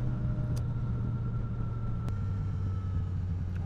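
A small motorbike engine idles steadily at close range, giving a continuous low rumble with a faint mid-range hum throughout and no speech.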